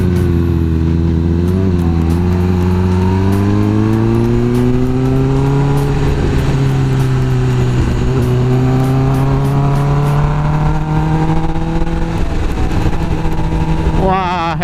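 A Kawasaki Ninja ZX10R 1000 cc sport motorcycle on the road, its engine droning loud and close throughout, with pitch rising and easing as the rider works the throttle, plus wind noise and a brief rev near the end.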